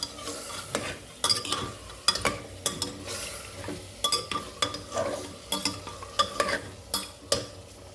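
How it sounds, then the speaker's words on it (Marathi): Tomatoes and mutton being stirred in a pan: rhythmic spatula scrapes and clacks repeat about twice a second over a low sizzle, close and clear, with no talking. "टमाटर टाकले आणि मटण बी टाकले आता पूर्णपणे हलवून घेऊ"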